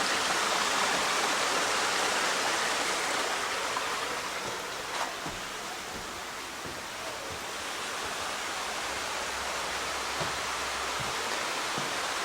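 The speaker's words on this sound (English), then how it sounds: "This is the view right there out at the waterfall." Outside a cabin, a waterfall pours in a dense, continuous rush, loud and near, swelling slightly at the start and then holding steady, with no voices.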